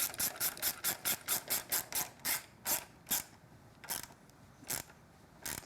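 A ratchet fitted with an 8mm socket clicks rapidly while tightening a nut on a Triumph Street Twin handlebar install, the clicks quick and regular at first, then slowing to a few spaced strokes, close and fairly quiet.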